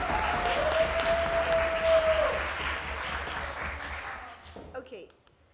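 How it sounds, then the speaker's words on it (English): Warm audience applause at a European debating championship final, greeting the closing government whip speaker; dense sustained clapping that gradually thins and fades out near the end. "Warm round of applause"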